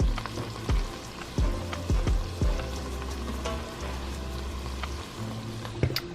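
Ground beef for spaghetti bolognese sizzles steadily in a hot pan, close and constant, with occasional scraping stirs and soft pops over the frying hiss.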